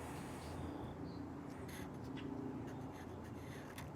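A pen scratches quietly on paper as a number and unit are written out for a math lesson, producing soft, intermittent strokes against faint room noise with no talking.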